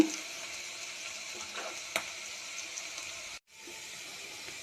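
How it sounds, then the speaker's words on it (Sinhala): Steady sizzling of food frying in a pan until browned, for upma, a continuous bright hiss with a couple of soft stirring clicks and a brief break near the end. "දැන් මේක ටිකක් දුඹුරු පාට වගේ වෙනකන් මේක අපි බදින්න ඕනේ."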